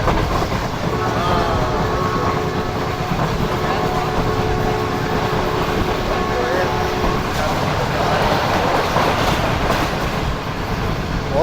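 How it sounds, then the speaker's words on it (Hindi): A Karakoram Express train in winter runs at high speed past Mahrajpur station with a loud, continuous rumble and rhythmic wheel clatter. Faint tonal squeals and whines sit over the roar, with some voices present. "काफ़ी अच्छी स्पीड में इस वक्त ट्रेन।"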